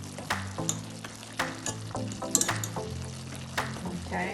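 Jamaican honey curry chicken simmers on a stovetop at medium heat, sizzling and bubbling steadily in its own released liquid, with occasional soft stirring clicks and pops, close and moderately quiet.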